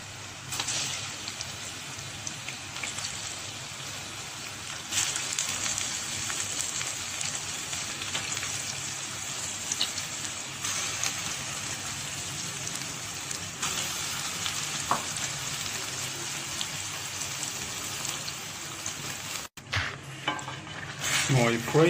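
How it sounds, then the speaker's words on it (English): Chicken pieces frying with softened onion in a hot pan, a steady loud sizzle that holds for the whole stretch, broken by a few stirring scrapes and a brief clatter near the end. "Now I put the chicken for frying"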